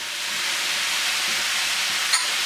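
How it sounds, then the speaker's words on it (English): Green onions go into a hot pan of vegetable japchae, raising a steady, broad sizzle and hiss that holds evenly throughout, with a brief brighter crackle near the end. "Everything's cooking, so I'm going to add our green onions in here."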